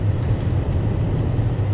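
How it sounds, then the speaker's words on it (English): A 2008 BMW M5 E60 sedan's V10 engine drones low and steady, heard from inside the car with slight fluctuations in a brief continuous stretch of engine noise. "There's a V10 noise coming from a freaking sedan"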